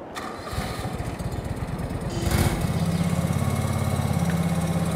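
A small garden tractor fitted with a front bucket, in Farming Simulator 22, cranks with a rapid low stutter, then catches and settles into a steady, loud, close idle rumble.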